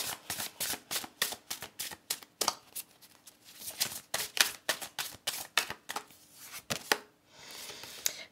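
A deck of tarot cards is shuffled close by in quick, rhythmic riffling bursts, a steady run of crisp slaps and flutters that thins out near the end.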